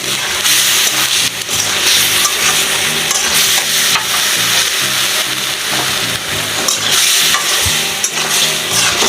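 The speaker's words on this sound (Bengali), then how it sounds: "এদিকে আমার তরকারিটা কষানো হচ্ছে।" A curry of fish, aubergine, potato and tomato sizzles loudly while being sautéed and stirred in a pan, a dense continuous frying hiss with scraping stirs throughout and no speech.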